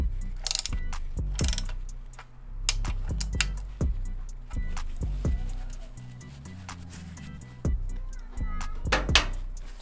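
Torque wrench tightening a primary cover bolt on a Harley-Davidson Dyna FXDLS, close metallic ratchet clicks and clunks in irregular bursts, with some faint background noise.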